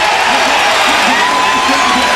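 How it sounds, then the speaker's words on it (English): A basketball arena crowd at a Michigan State vs. Michigan college game roars after an alley-oop, producing a loud, dense wall of cheering that stays constant throughout. "after this alley-oop, it ignites the crowd"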